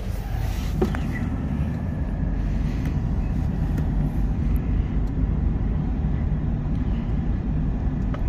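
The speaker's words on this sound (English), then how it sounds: "drive the truck and trailer away from underneath of it." A pickup truck pulls a trailer out from under a self-propelled auger, its engine a steady low rumble that stays close and constant, with a few faint clanks.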